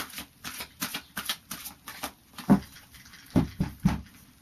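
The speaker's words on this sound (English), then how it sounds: "let's give it a final shuffle" A deck of oracle cards is shuffled in a run of soft, rhythmic riffles and flicks, ending with a few louder taps as the cards settle.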